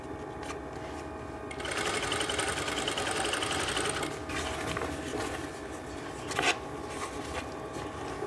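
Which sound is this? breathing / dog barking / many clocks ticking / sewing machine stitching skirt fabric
sewing machine stitching skirt fabric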